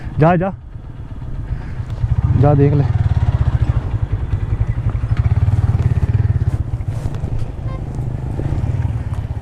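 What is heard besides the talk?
motorbike riding toward a waterfall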